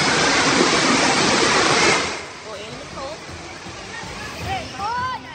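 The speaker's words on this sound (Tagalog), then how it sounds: "Tinangay ng malakas na ragasan ng tubig ang ilang motorsiklo sa Rodriguez" Heavy rain drives floodwater rushing through Rodriguez, Rizal, sweeping motorcycles away. A loud, dense roar fills the first two seconds, then drops to a lower wash with voices calling over it.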